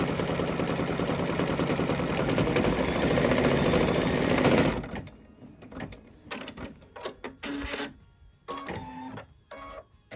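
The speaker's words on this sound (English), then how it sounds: "I'll stitch a little bit and then I will speed it up a bit" A Kimberbell quilt block, a fire house design, is stitched by an embroidery sewing machine with a loud, fast, continuous mechanical whir, which then drops to slower, intermittent stitching bursts and pauses.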